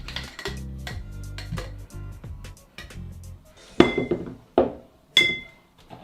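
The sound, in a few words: banging cocktail shaker with ice to separate it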